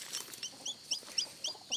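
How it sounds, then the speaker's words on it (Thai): Chickens cluck quietly nearby in a rapid, regular series of short, high calls, about four per second, with no voices. "มาแต่ไสนี่ไก่นี่"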